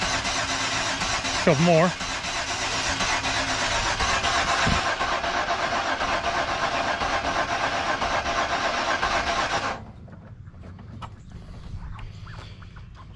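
An old parts truck engine cranks over and over without firing, a loud rhythmic churning that cuts off abruptly, leaving quieter background, while someone talks throughout.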